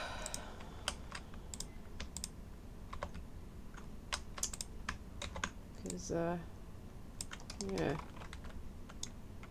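Someone typing on a computer keyboard with a faulty escape key, a close, steady run of crisp clicking keystrokes, with a couple of short spoken remarks between bursts.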